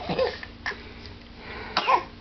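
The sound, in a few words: baby coughing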